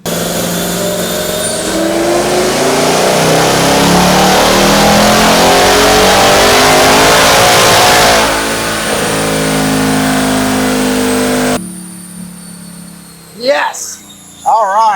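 A custom-tuned Ford S650 Mustang with a Whipple supercharger roars through a full-throttle dyno pull, engine pitch climbing steadily for about ten seconds before cutting off, followed by brief quieter sounds.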